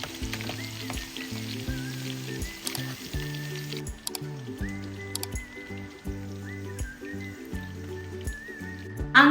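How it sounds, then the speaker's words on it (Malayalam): Curry leaves, crushed green chili and garlic frying in hot oil for Chicken 65, a steady close sizzle and crackle that runs throughout under light background music. "ഇത് ജസ്റ്റ് ഒരു 30-40 സെക്കൻഡ് മതി, പെട്ടെന്ന് ഫ്രൈ ആയി കിട്ടും"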